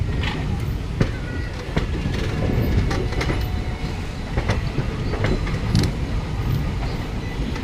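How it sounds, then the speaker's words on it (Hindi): A saloon train coach is shunted into a station platform, with low rumbling, clanks and sharp wheel-on-rail knocks at irregular intervals over a continuous mechanical drone at moderate level. "सैलून ट्रेन है ये, पार्क की जा रही है।"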